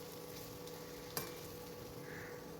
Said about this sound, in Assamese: এতিয়া আলুকেইটাও অকণমান লৰাই ভগৰাই উঠাই ল'ম